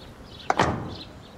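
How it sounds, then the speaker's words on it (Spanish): A car door shuts with a single solid thump, preceded by a brief latch click, then quiet room tone. "Vamos, cierra la puerta."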